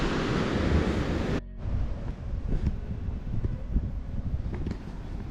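Ocean waves surging along a rocky New Zealand coast near a blowhole at low tide: a loud rushing surge at the start cuts off abruptly, followed by steady washing and wind-blown water noise.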